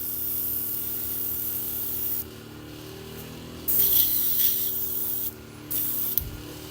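An airbrush lays a light dust layer onto a Warhammer miniature, giving off several soft, close bursts of hissing spray separated by short pauses over a steady background hum.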